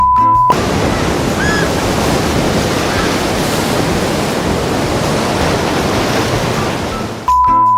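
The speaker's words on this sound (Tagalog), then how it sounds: "si Mother Nature may dalang dambuhalang alon para sila ay biglang tangayin at hugasan" A huge ocean wave crashes and roars as a dense, loud wash of surf noise that fills several seconds, bracketed by brief electronic tones at the start and end.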